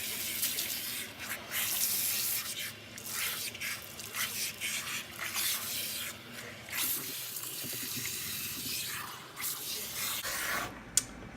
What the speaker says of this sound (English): As soon as I start putting the water on my client's head